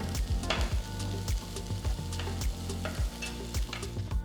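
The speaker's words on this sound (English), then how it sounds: "we're going to stir fry the onions along with some potatoes and capsicum" Onions, potatoes and capsicum stir-fry over high heat in a pan, a loud continuous sizzle punctuated by rhythmic scraping strokes of a spatula, close up with no voices.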